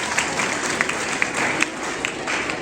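Loud, steady applause from a school audience of children, dense overlapping claps with a few sharper peaks, continuing without a break.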